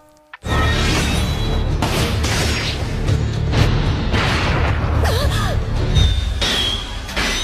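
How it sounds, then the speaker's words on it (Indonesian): A booby-trapped exploding doll in an animated film blows up with a loud, sudden boom. Crashing, rumbling debris and whooshing blasts continue after it, with several sharp bursts in between. "Diantin pun berhasil menjebak Colombine menggunakan boneka peledak"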